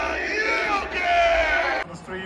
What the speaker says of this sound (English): Oh my God, the crowd goes crazy,